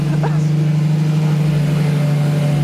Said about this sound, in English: first startup of the Gintani Revuelto